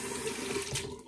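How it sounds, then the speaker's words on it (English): Hot water runs steadily from a tap into a sink to wet the face before a shave, a constant close hiss and splash throughout. "Wet the face, hot water"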